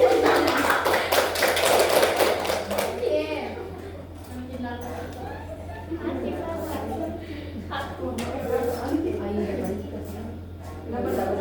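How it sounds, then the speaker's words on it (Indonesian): Classroom of children clapping for a classmate who answered a question on the proclamation date, a dense patter in the first three seconds fading into scattered taps and murmuring young voices. "Tepuk tangan buat Anti."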